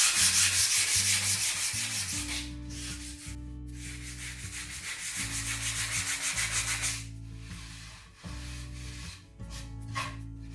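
An antique wooden children's desk being hand-sanded with 220 grit sandpaper, close and loud, with rhythmic back-and-forth rubbing strokes and brief pauses between them.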